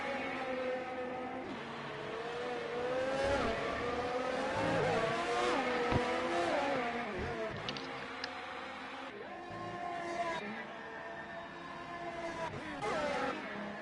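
Force India and Ferrari Formula 1 cars racing in the F1 2018 video game at Belgium, screaming engines rising and falling through gearshifts as the cars battle closely, steady and loud with no talking.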